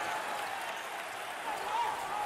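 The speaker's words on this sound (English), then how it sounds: "listen to those fans. The crowd is thunderous." A basketball crowd at an Ivy League championship game between Cornell and Penn roars and applauds steadily, a sustained wash of cheering with a commentator talking over it.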